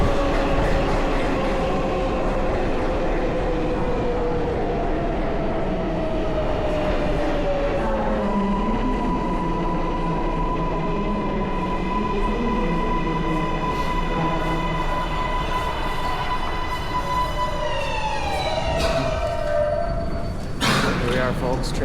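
Subway train at Grand Central Terminal station in New York, a steady loud rumble with falling and steady tonal whines from the moving cars, ending in a bright screech; talk runs faintly over the station noise.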